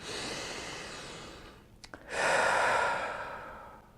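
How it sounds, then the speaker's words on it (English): Slow, deep breathing during a guided grounding meditation: a long airy exhale, a brief pause with a couple of soft catches, then a fuller breath, close and steady with no talking. "Take a few more nice deep breaths."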